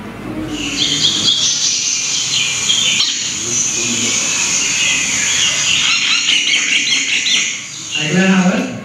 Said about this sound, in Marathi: तर ही मैना जी असते त्याचा जर आवाज तुम्ही ऐकला